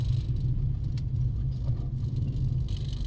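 Road traffic rolls through Tagaytay, a continuous low rumble of passing car engines with no break, moderately loud and close, with no voices over it.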